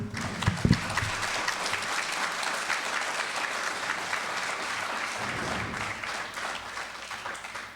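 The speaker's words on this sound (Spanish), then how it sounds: "Un fuerte aplauso, por favor." An audience at a lecture applauding, dense steady clapping that holds throughout and fades slightly at the end.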